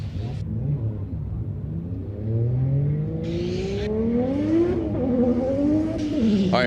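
Pro 2 drift car at a 2018 Texas qualifying event revving hard into a big sweeper, a loud engine whose pitch climbs steadily and holds near the end.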